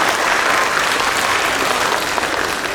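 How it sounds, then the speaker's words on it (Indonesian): An audience claps for a preschool arts performance, a dense, steady burst of applause from a crowd that stays loud for the whole short stretch with no speech on top. "Boleh tepuk tangannya?"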